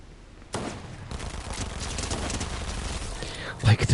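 Rapid Uzi submachine gun fire in Fortnite, a dense, continuous burst of close automatic shots lasting several seconds, with louder, heavier bangs near the end.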